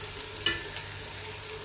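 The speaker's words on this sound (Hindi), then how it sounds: "एड 1 से 2 मिनट के लिए इसको भुनेंगे थोड़ा सा ताकि ये लहसुन की स्मेल ख़त्म हो जाए।" Garlic frying in a pan for a couple of minutes, a steady close sizzle with one brief scrape of stirring partway through.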